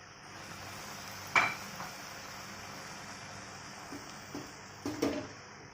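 Drumstick leaves being stirred in a cooking pan, with a soft steady hiss of scraping and two sharp metal clinks of the utensil against the pan, one early and one near the end.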